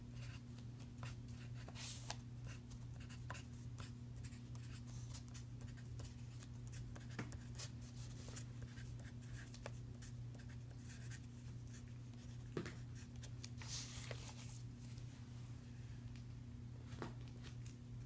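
A pen draws a number line on paper during a classroom lesson, giving a steady scratchy writing sound with short strokes and taps throughout, close and alone over a constant low background hum.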